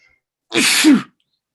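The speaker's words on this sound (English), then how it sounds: "I got to sneeze" One loud sneeze, close up, a short burst with a sharp breathy spray after near silence.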